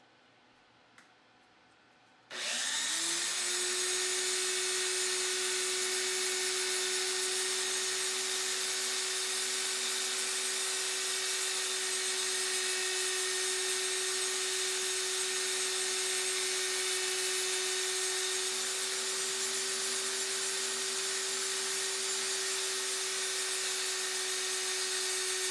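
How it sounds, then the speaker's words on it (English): Power tool switched on after a short quiet moment, then a steady high whine with a constant tone as the cut edge of a copper coin ring is smoothed, loud and continuous to the end. "let's work on this cut edge"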